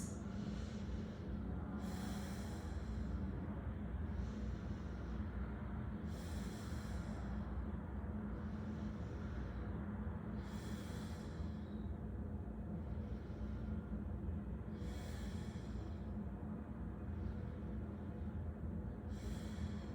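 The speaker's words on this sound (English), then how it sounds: "5 deep breaths." Slow, steady breaths during a warrior one yoga pose, about five long inhale-exhale cycles in roughly twenty seconds, each a soft airy rush, close and fairly loud over a constant low hum.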